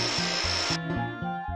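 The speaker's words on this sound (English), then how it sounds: "So I'll just drill holes all over the place!" Drilling in the PS1 game Tail Concerto, a grinding, buzzing drill with a high whine that cuts off partway, then continues as a rhythmic chugging of repeated thumps.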